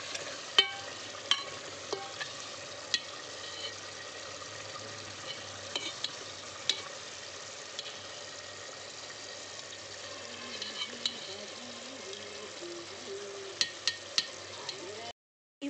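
Eggs stirred into a sizzling spicy egg curry in a pan: a quiet, continuous frying hiss broken by scattered sharp clicks and scrapes from a spoon against the pan.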